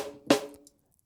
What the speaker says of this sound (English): So this is the sound of the snare.